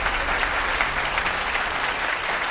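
Audience applause during a fashion competition show as a contestant leaves, continuous dense clapping at a steady, fairly loud level for the whole moment, with a faint crowd murmur beneath.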